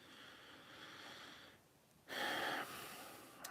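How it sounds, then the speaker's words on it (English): Pug snoring nearby with a breathy, snorting texture, a soft steady stretch followed by a brief dip and then a louder, rougher snort-like breath. "I love the pug snoring."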